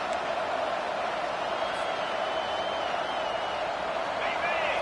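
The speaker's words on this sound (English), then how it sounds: "This crowd, full throat, splitting the eardrums" A college football stadium crowd roars during a video game broadcast against LSU, a dense, steady wash of cheering at moderate loudness, continuous and distant-sounding, under faint commentary.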